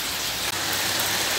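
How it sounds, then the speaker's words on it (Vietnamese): Rain pours steadily outside a house, a dense, even hiss of drops hitting surfaces, close and fairly loud, with no talking. "mọi người cái cảnh mưa này có đẹp không?"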